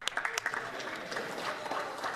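A brief, light golf clap in a parliamentary chamber: a few scattered, soft claps heard close up, thin and polite rather than a full round of applause.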